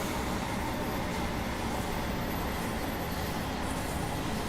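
A Bakerloo Line train starts up in Train Sim World 2, producing a dense, steady mechanical rumble and roar that stays loud and unbroken throughout, with no talk.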